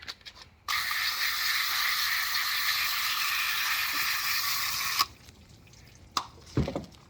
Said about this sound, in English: now I'm just going to take our little garden hose and rinse that off of there